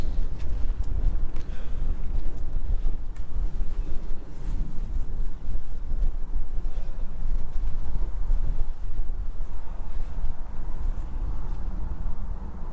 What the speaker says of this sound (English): it's cold, it's late November, cold north wind blowing